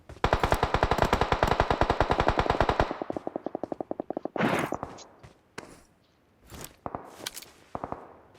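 A loud rapid burst of video game automatic gunfire rattles for about three seconds, then slows into spaced single shots and a heavy thud, followed by scattered footsteps and sparse cracks.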